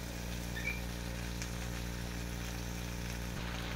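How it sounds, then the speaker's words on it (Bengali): Jackfruit being sautéed with boiled potatoes in a pan, a steady close sizzle and fry running evenly throughout with a faint low hum beneath it. "এইভাবে কষে নেবো, আলুগুলোকে দিয়ে কষে নেবো"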